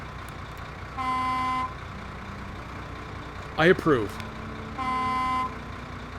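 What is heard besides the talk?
truck horn in video game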